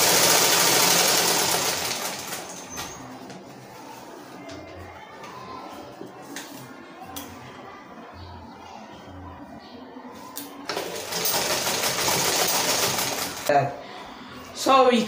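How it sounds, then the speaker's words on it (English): A sewing machine stitching the elastic waistband casing of a kids' trouser runs in a steady whirring burst at the start and again near the end, with quieter handling and speech-like sounds between the runs. "So I'll sew down to this point and leave this place open to pass my elastic."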